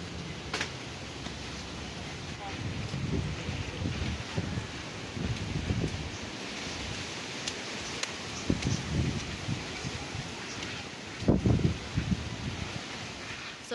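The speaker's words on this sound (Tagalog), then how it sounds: "Bugso-bugso ang hangin." Gusts of wind from Typhoon Opong in Oriental Mindoro buffet the microphone in irregular bursts, rising and falling over a steady rustling background.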